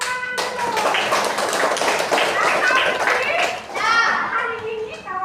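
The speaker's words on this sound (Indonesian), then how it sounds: "Ya, tepuk tangan" Children in an Islamic civics class clap their hands in quick rhythmic patterns, loud and close, with children's voices chattering and calling out throughout.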